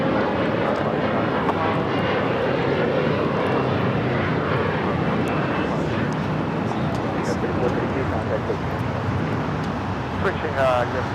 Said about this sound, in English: This is Korean Air Cargo 8207 coming in from Seoul on the 777 freighter.